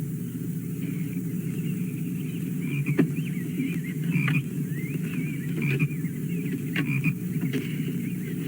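Toads croaking in an old Daniel Boone radio drama set in Kentucky, a steady chorus of low throaty croaks and chirps with occasional sharper calls, continuous and moderately close under a low background hum.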